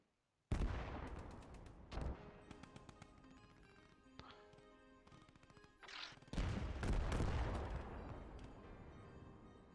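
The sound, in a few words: gunfire in the video game Post Scriptum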